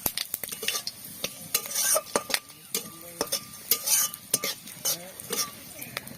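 Whole cumin, cloves, cardamom, cinnamon, dried red chilli and two bay leaves crackle in hot oil while a metal spatula stirs and taps against the pan in quick, irregular close strokes, with no talking.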